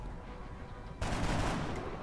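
A gunshot fired in the turn-based strategy game XCOM: Enemy Unknown, at an alien target: a sudden loud burst of gunfire that starts abruptly halfway through and stays dense, over quiet game ambience.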